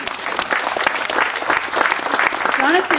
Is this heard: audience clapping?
yes